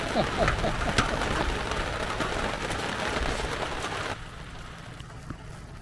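Steady broadband hiss of heavy rain pouring down at a dispersed campsite in Blue Ridge, Arizona, loud and close, easing somewhat toward the end.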